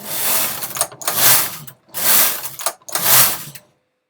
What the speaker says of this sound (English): So I'll knit a few more rows.